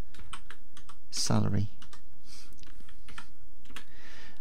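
Keys clatter on a computer keyboard while income details are entered into accounting software, a quick close run of clicks alongside a man's speech.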